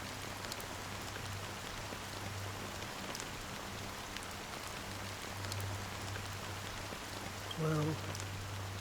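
Rain falls steadily in Honkai: Star Rail, a soft, even hiss of drops spread across the scene, with a low hum beneath and a brief voice-like sound near the end.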